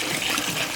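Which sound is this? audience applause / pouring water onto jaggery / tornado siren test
pouring water onto jaggery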